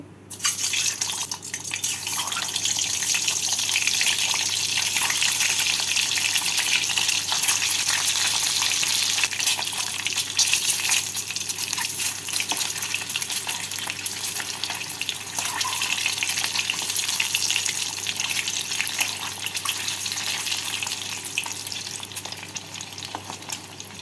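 Pieces of boiled egg frying in hot white oil in a wok, a loud, steady, crackling sizzle that runs on without a break, close up and with no voices.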